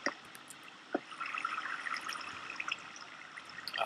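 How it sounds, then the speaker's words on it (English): Flowing water in the Minecraft video game, a steady faint trickling and pouring wash running throughout with small splashy flickers, no voices over it. "Flowing water. It's pretty cool."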